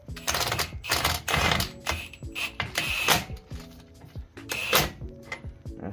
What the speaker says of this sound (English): I'm gonna ease this nut in with a 32mm socket.